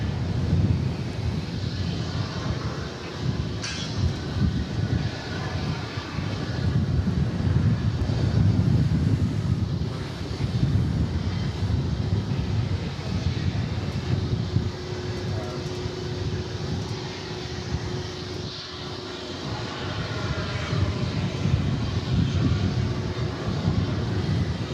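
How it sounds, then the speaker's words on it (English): Delta Airbus A319 jet, about twenty years old, rumbling at Dallas-Fort Worth airport, a steady loud engine roar that swells and eases over the whole stretch, heard from nearby with no voices. "Delta Flight 1291. Going to Salt Lake City in Airbus A319."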